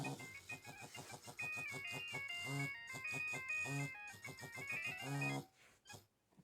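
A Nokia 3120 or 1650 phone plays a bright electronic ringtone melody of quick repeated notes, loud and close, with low buzzing vibration pulses joining in several times before it cuts off near the end.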